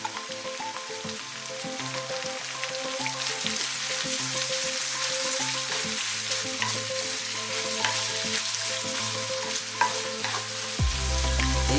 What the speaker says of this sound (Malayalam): ഇനി ഈ കടായിലേക്ക് 2 കപ്പ് സവാള സ്ലൈസ് ചെയ്തത് ചേർത്തിളക്കുക.